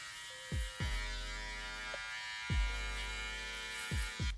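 Electric hair clippers fitted with a 3 guard during a layered brushback haircut: steady close electric buzz with a mains-like hum, broken by several short swipes and thumps as the blade passes through hair.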